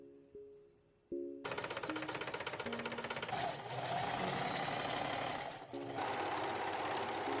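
A sewing machine stitches mesh onto a dance costume, running in a fast continuous rattling whir that pauses briefly before resuming, with faint music underneath at first.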